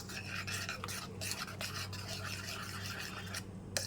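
Toast crumbs are mixed by hand in a bowl for Mughlai paratha, giving a close, continuous scratchy rubbing and rasping with no talk.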